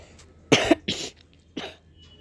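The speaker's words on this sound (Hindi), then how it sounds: "तभी मुझे खांसने की आवाज़ आई किसी के मैं अपने पीछे से" Three coughs in a row, the first a harsh double burst, then two shorter ones, close and clear against quiet.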